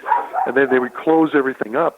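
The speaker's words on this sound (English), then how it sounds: "That's my dog wants to get into the radio show." A dog barks and yips several times in quick bursts close to a microphone during a talk radio interview, the yelps mixed in with someone speaking.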